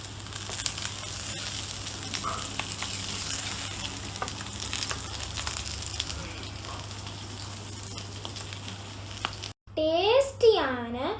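Sardines coated with green pepper sizzle and crackle steadily in a frying pan, a continuous close frying hiss that ends in a brief louder clatter of stirring or lifting the fish.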